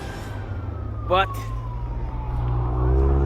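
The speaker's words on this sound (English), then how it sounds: "Sirens," Emergency vehicle sirens wail faintly through heavy traffic during a winter snowstorm in Ontario, Canada, a brief rising whoop standing out over steady engine and road rumble, with a single spoken word.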